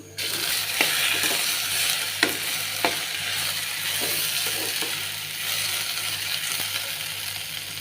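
Okra sautéing in a pan over low heat for a simple home-style vegetable dish, giving a steady close sizzle and crackle with a few sharp stirring clicks and scrapes, and no talk.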